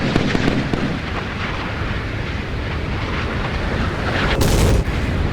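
Missile explosions rumble through a naval battle in the Sea Power video game, 1970s–80s Chinese warships against British warships: a dense, continuous roaring barrage of blasts that swells into a louder, sharper burst near the end, with no voices.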